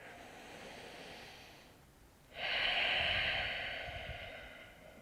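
Steady breathing while holding a yoga lunge, a quieter exhale fading into a brief pause, then a strong, close, drawn-out breath with airy rasp that slowly tapers, no talk over it.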